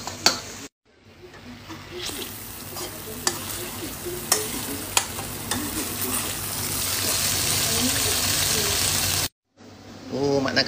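A pot of fish curry simmering and being stirred, with steady bubbling and sizzling, scraping spoon taps and a bubbling surge that builds toward the end, close by, with brief gaps and faint voices in the background.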